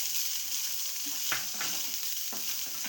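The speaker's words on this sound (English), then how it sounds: "we will add onion to it and stir it" Onions and green chilies sizzle steadily in a pan for an Indian-style masala pasta, with a few scrapes of a spoon stirring through the close, continuous frying hiss.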